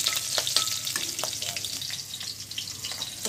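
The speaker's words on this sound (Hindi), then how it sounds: "देखिए मैंने क्या डाला, प्याज डाला, फिर हरी मिर्च डाला" Chopped onion and green chilli fry in a pan with a steady, close hiss, broken by a few sharp crackles and stirring scrapes over about three seconds.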